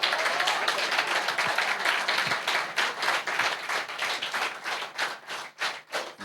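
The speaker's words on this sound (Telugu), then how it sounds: "ఇవాళ ఎన్ని చప్పట్లు కొట్టామండి" An audience claps steadily at a social event, a dense, loud patter of many hands that swells and then breaks into separate, uneven bursts, with no talk over it.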